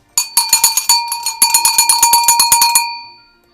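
A metallic cowbell on a grazing cattle herd clanks in quick, uneven strokes, loud and close, about twenty strikes before it rings out and fades to silence.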